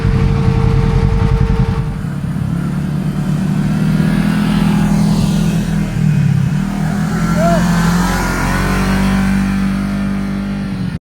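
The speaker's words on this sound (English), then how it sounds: "My buddy Brian is gonna rip the race buggy" A CFMOTO race buggy engine revving, a loud, close engine drone that climbs and dips in pitch as the throttle is worked, with voices talking over it.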